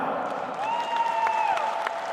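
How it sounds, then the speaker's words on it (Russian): A concert audience applauds at the 40th anniversary show of a Buryat group, a short burst of steady, even clapping with a thin sustained tone above it. "Мы под ваши несмолкающие аплодисменты, дорогие друзья"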